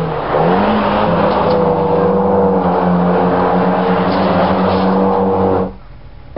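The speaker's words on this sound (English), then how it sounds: "we used to love the Mini Coopers because you could do things like this in them." A Mini Cooper driven hard, its engine revving loudly and holding a strained, rising drone for several seconds before cutting off abruptly, close and dominant with no voices.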